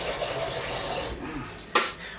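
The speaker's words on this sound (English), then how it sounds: "I'm filling up the kettle with water" Tap water runs steadily into a kettle as it is filled for boiling water sterilisation, producing a continuous rushing hiss, followed by a short sharp clatter near the end.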